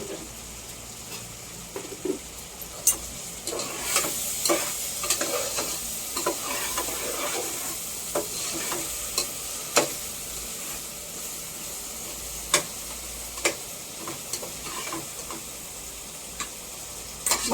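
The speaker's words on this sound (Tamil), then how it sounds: "இஞ்சி பூண்டு பேஸ்ட் போட்டிருக்கேன் வதங்கட்டும்" Ginger garlic paste with a little salt sautéing in a pan while cooking biryani, a steady low sizzle broken by sharp, irregular clicks and scrapes of a spoon stirring, close and without talk.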